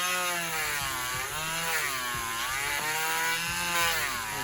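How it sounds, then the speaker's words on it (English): A Dremel rotary tool cuts into the plastic of a McFarlane action figure, its high whine wavering up and down in pitch as the bit bites, with brief scraping knocks, close and steady, no talk. "So just be careful when you control your Dremel. Don't let your Dremel control you."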